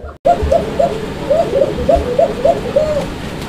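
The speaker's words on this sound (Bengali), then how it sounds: "এইটা কিন্তু আসলে ডাকাডাকি করতেছিল, সো ভাবলাম যে এইটাই আগে দেখাই দিই আপনাদেরকে, কারণ এটা হচ্ছে কোকা কবুতর একটা জোড়া, অ্যারাবিয়ান কোকা" A pair of Arabian koka pigeons call close by, a rhythmic series of about ten soft cooing notes in quick succession over low background noise.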